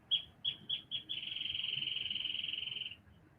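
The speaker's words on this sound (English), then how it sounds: "I hope you're hearing that bird as I'm hearing him." A bird sings outdoors: four short separate high notes followed by one long sustained trill, clear and fairly close over a quiet background, with no talking.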